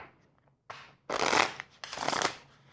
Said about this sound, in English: Let me just take a quick shuffle this way.